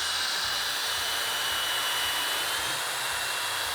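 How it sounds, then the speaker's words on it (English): A motorized paint-mixer-style mash stirrer from Kegland churns through brewing grains for a double decoction Hefeweizen, a steady, loud whirring drone with a low rhythmic chugging underneath, constant throughout with no talking. "a giant paint mixer that goes into your grains, this makes mashing a hell of a lot easier"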